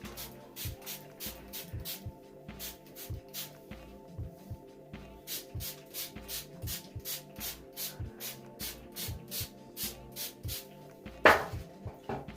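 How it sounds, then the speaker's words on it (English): Repeated short hissing bursts of a spray bottle spraying water onto hair (locs), pumped in a steady rhythm, each squirt crisp and close, with a brief louder burst near the end. "So I'm gonna use this my spray bottle, and I'm just gonna spray."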